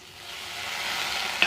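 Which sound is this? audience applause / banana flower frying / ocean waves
banana flower frying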